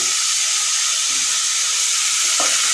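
Radish pieces sizzling loudly in a hot pan (kadai) while being stirred for a mooli chhechki: a continuous, close hiss of frying with faint scraping from the stirring.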